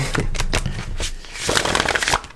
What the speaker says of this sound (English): I'm going to just shuffle the cards up real quick